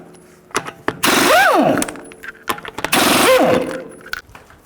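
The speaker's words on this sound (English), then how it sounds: "Take the lug nuts off." An impact wrench with a 22mm socket zips lug nuts off a front wheel of a 2010-2014 Cadillac SRX, two loud, close bursts of rattling hammering, each rising and falling in pitch, with quiet clicks and handling noise between.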